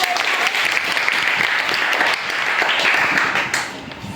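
A school class at a quiz event claps for the first-place winner, a dense burst of applause from many children that holds steady, then tapers slightly near the end.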